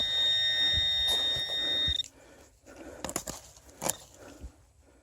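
A metal detector's steady high electronic beep drones for about two seconds, then cuts off, followed by scattered scraping and knocking sounds nearby as a stone is dug out.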